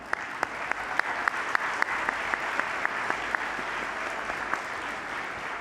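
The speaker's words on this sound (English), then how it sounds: "Maybe we could give Julia another round of applause." An audience at a spring dinner applauds, a steady wash of clapping with sharp individual claps standing out near the front, holding at an even level for several seconds.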